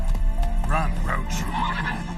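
Horse Roach from a video game neighs with a clear descending whinny in the middle, over steady clip-clop hoofbeats and low rumble, while a voice talks over it.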